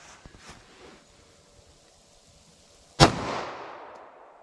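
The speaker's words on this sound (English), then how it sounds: "First up, we have our 40 Smith & Wesson 165 grain brass jacketed hollow point rated at 1150 feet per second." A single close, sharp gunshot from a .40 Smith & Wesson pistol firing a 165-grain brass jacketed hollow point round cracks out loudly after a quiet stretch, followed by a short decaying echo.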